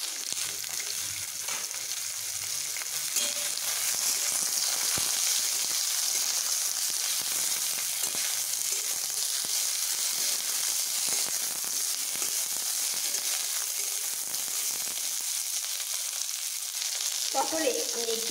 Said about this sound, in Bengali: ফোড়নগুলো আমার একটু ভাজা হতেই আমি এখানে এই পটলগুলোকে দিয়ে নিচ্ছি।